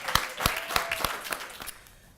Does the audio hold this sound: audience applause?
yes